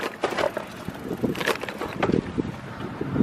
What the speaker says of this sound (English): you can hear the wind again, it's just a constant headwind into us.